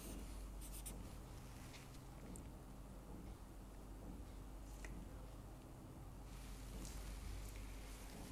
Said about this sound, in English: Let us write this down.